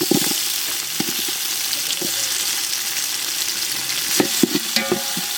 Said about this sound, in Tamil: நல்லா வதக்கி விடு நண்பா நல்லா வதங்கணும்